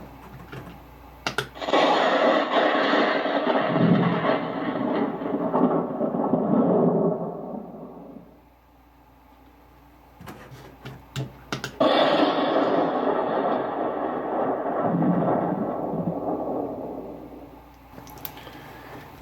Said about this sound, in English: Now we're going to kill lights and look at the lightning and thunder effects.